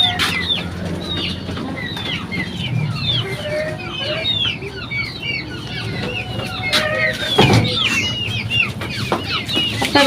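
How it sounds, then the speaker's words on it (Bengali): Chickens in a small backyard coop cluck and chatter continuously nearby, with a few louder bursts and rustling, while a person talks quietly underneath. "এই যে নিচে কচু মুরগি বসাইছে ভাবি যে দেখাও"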